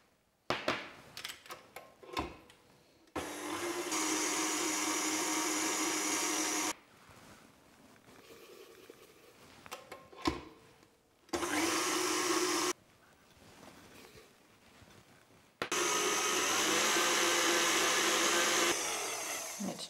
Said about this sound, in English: turn it up nice and high and whisk until we get those nice stiff peaks